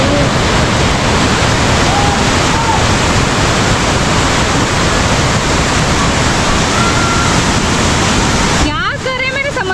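Fast-rushing waterfall roaring loudly and steadily at close range, a dense continuous wash of water noise, with a few faint voices underneath and a brief shift in the final second.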